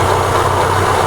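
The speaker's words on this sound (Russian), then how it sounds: "отчетливо слышно очень сильный шум, то ли из картера сцепления," A Daewoo Lanos with a 1.4-litre MeMZ 317 engine runs with a loud, steady mechanical drone and whine, apparently from the clutch housing or gearbox, recorded close up with no talk.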